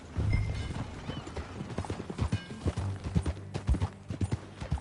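Horse hooves clip-clop steadily in the western open-world game Red Dead Redemption 2, a rhythmic trot close by with occasional creaks of tack and a faint whinny, no talking.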